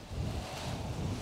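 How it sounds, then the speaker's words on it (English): Strong wind at a paragliding launch on a hillside, a steady, loud broadband roar with gusty buffeting across the microphone throughout, and no voices. "It's quite windy now."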